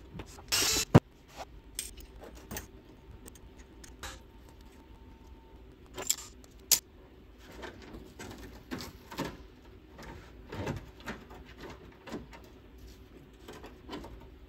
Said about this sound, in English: So I'll grab a vice grip and see if I can get these loose.